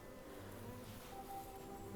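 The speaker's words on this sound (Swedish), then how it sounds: "Det är ju också så att bin åldras inte över tid utan man kan säga att de åldras i arbetstimmar." Honey bees buzz steadily at a hive while honey is being harvested, a continuous close hum with several overlapping wingbeat tones and no pauses.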